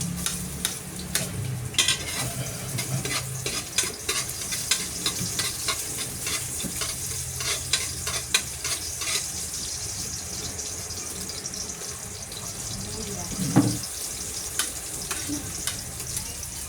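Steady crackling sizzle of garlic frying in a pan, close and continuous, with occasional stirring scrapes.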